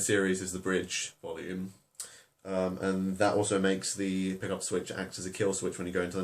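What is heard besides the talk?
None of the usual background noises is heard.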